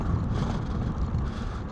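Wind buffeting the microphone while riding a scooter, a steady low roar and rumble with no pauses over the short stretch.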